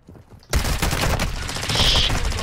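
Gunfire in the DMZ game, a sudden dense burst of rapid automatic shots that starts after a brief quiet moment and keeps rattling loudly and continuously to the end.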